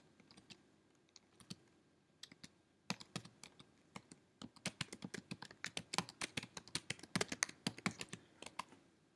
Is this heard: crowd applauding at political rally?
no